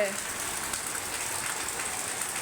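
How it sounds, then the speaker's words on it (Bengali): Steady rain falls on a rooftop garden, making a continuous close hiss of drops with no breaks for the whole stretch. "দেখো কি বৃষ্টি হচ্ছে"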